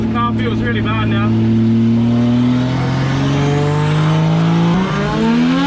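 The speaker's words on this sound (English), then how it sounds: "Hey, first lap in a drift car?" Drift car on a race track, engine revving hard with rising and falling pitch as it accelerates and shifts, loud and close, with a voice talking over it.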